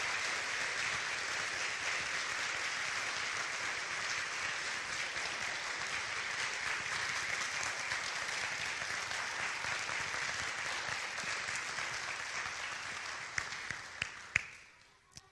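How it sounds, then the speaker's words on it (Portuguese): Sustained applause for Maria José fills a church gathering, dense steady clapping from a crowd for about fourteen seconds before tapering off into a few scattered claps. "Eu acho que Maria José merece uma salva de palmas"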